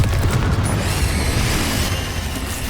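Confringo blasting spell from Hogwarts Legacy bursting in a dense, rumbling explosive roar with crackling debris, loud and sustained for a few seconds.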